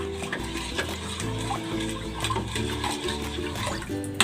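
Cornstarch, soy sauce, salt and pepper being stirred together into a sauce before the heat is turned on, a steady scraping and sloshing stir with faint clinks, continuous throughout and fairly close, with no talking.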